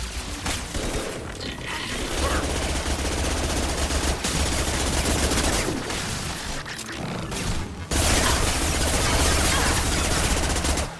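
Sustained automatic fire from the Tempest SMG in Mass Effect 2, dense rattling bursts with brief gaps and occasional heavier impacts, loud and continuous over game combat noise.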